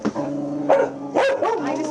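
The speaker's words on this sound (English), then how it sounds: "There are dogs in her kitchen, too." Dogs at a puppy mill bark and yip in several sharp overlapping outbursts, close and loud over a constant din of more dogs and a voice.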